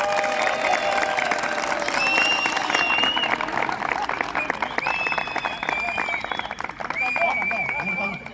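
An audience applauds and cheers for the best player of the tournament, with dense, sustained clapping and crowd noise filling the whole stretch under a voice talking.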